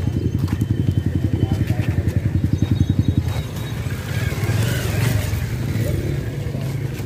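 Kawasaki ZX10R sport motorcycle engine running near the mic, a fast steady pulsing idle-to-rev throb for about three seconds, then a rougher, louder rising rev with wind and street noise.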